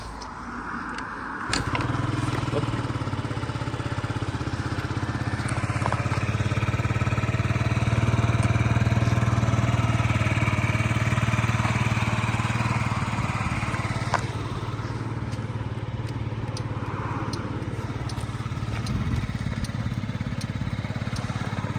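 A fuel-injected Yamaha Jog SA36 scooter engine starts with a short burst, then settles into a steady, close idle with a low droning hum and faint mechanical rattle for about twenty seconds, with no talking.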